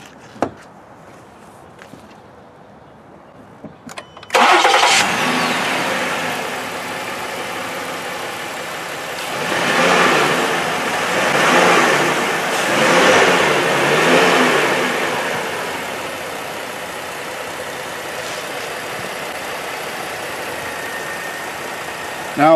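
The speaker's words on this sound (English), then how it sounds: "then you got to start the car." A Ford Edge with a failing voltage regulator sits quiet for a few seconds, then the engine cranks and catches with a sudden loud roar, settles into a steady run and swells through a few revs before idling again.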